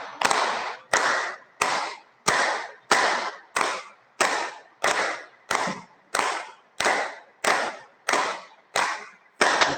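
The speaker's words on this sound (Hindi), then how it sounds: "सभी जनों एक दूसरे के लिए तालियां बजा लें 15 बार।" A yoga group claps in unison about fifteen times, each sharp, crisp clap evenly spaced and ringing briefly in a quiet room.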